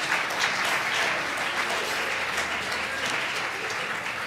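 A crowd claps steadily and loudly for several seconds, a dense wash of applause with no pauses.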